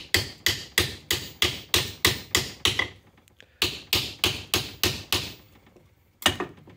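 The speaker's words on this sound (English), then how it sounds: "Even with this little hammer, it'll go" A small hammer knocks rapidly in steady bursts of sharp metallic strikes, driving an old handle out of a vintage axe head, pauses briefly, then resumes, close and loud with no talking.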